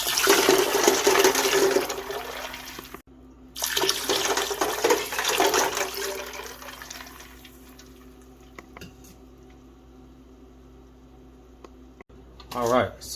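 Water gushes steadily into a turkey brine for several seconds, then tapers into quieter trickles and a few drips, ending with a brief splash.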